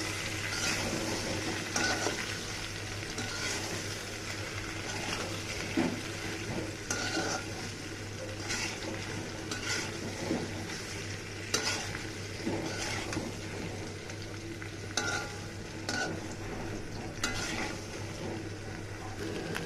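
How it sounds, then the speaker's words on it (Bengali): Small new potatoes, boiled with salt, frying in white oil in a pan, giving a steady, close sizzle with soft stirring scrapes and occasional clinks throughout. "আলুগুলো ভেজে নেব, লবণ দিয়ে আলুগুলো ভেজে নেব।"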